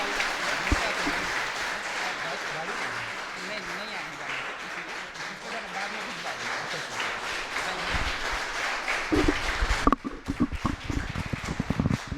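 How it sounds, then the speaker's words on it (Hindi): An audience at a one-day neighbourhood youth parliament event held by Nehru Yuva Kendra in Begusarai claps to thank a speaker, dense, sustained applause filling the hall before it fades and a voice begins speaking. "सभी से रिक्वेस्ट करता हूँ, एक बार तालियों से सर को धन्यवाद दें"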